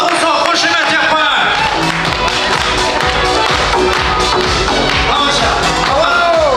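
Applause at a 40-year class reunion in Dermene village breaks out for a gift of an expensive watch, a loud, close crowd clapping steadily while voices talk and call out over it.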